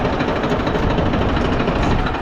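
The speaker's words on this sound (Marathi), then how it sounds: "इथं ट्रॅक्टर चालला होता, तर ट्रॅक्टर चालवतोय मित्रांनो" A tractor engine runs steadily in a field in Punjab, giving a loud, continuous low rumble with a slight knocking vibration throughout and no voices.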